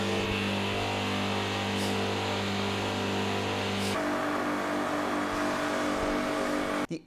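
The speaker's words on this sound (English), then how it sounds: "when we compared the loudness of those pressure washers, because at the back they both stayed 94 decibels of noise, you could hear that there is a slight difference" AVA P80 Master and Kärcher K7 pressure washers run one after the other with a steady, loud motor drone whose tone shifts partway through, ending in an abrupt cutoff.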